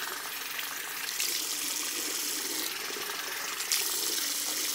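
Tap water runs steadily to rinse a safety razor over a sink, a broad continuous splash with brief surges where the flow hits the blade and head.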